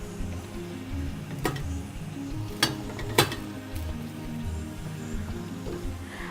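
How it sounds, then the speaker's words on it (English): Stirring 110 grams of dark chocolate for a chocolate fondant lava cake, giving a steady soft scraping swirl with a few sharp clinks of the utensil against the bowl, fairly close and alone. "I will now be stirring the 110 grams of dark chocolate"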